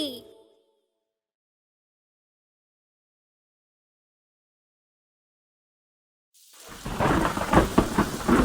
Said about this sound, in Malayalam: മഴയും പെയ്യുന്നു.